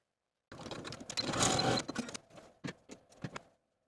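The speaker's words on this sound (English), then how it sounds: "overlap the ends of your elastic by about 1/2 inch and zigzag stitch across the opening" A sewing machine zigzag stitches across overlapped elastic ends for an elastic-waist skirt, giving a short busy whirring run that breaks into a few separate mechanical clicks, quiet and close with no speech.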